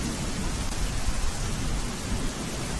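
Heavy rain pouring in Ahmedabad, a dense, continuous broadband roar of downpour with low rumble underneath, steady and unbroken with no voices.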